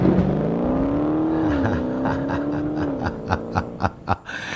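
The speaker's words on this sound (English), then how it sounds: "Let's wait for JT to drive off in his car." A car engine whirs and rises in pitch as the vehicle pulls away, then several sharp revving bursts follow near the end, close and loud with no talking.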